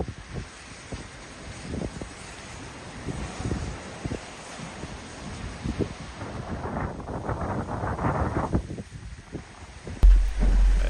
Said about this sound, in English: not too much gusty winds yet, just a little bit, and a little bit of rainfall